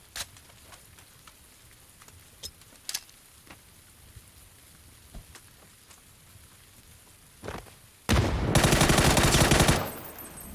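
A sharp burst of rapid automatic gunfire from the video game PUBG erupts loud and close near the end, after several scattered single shots over a quiet background.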